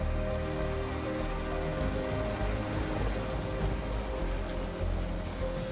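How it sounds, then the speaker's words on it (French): A helicopter drones steadily and loudly throughout over the high Alpine peaks, its engine and rotor rumble constant and close, with no talking. "C'est en hélicoptère que Peter Schwitter se rend à son travail sur les hauts sommets alpins"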